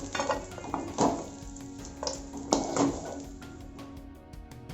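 Grated carrot fries in ghee in a pan over a low flame for carrot halwa, a soft, close sizzle running underneath intermittent stirring scrapes and light knocks against the pan.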